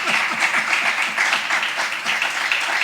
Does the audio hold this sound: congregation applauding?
yes